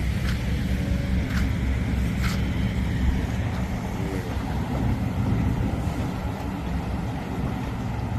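A truck coming from Loei rolls past outdoors, a steady low engine rumble and road roar with wind-like noise throughout, fairly loud and continuous.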